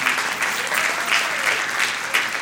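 Sustained applause from a church congregation during a sermon, a dense steady clatter of many hands filling the room without letup.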